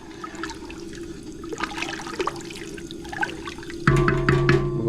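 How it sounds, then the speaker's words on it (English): Three or four cups of water pour steadily into a pot of chicken and sausage okra gumbo over chicken broth, a continuous close splashing trickle that grows fuller and louder near the end. "About 3 or 4 cups of water on top of that 48 ounce jug of chicken broth"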